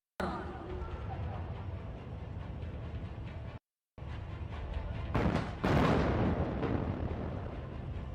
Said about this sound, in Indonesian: kita saksikan bersama kedahsyatan dua pucuk meriam